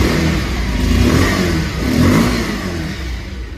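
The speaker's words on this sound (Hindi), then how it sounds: "इसका एग्जॉस्ट नोट सुना देता हूँ।" A Bajaj Pulsar 150 motorcycle's exhaust, revved close by in two rising and falling surges over a continuous rough engine note.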